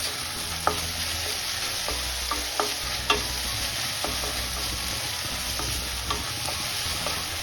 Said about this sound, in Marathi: आता या स्टेजला आपण हिरवी मिरची आणि लसणाची पेस्ट ऍड करून घेऊया ही पेस्ट पण आपल्याला परतून घ्यायची आहे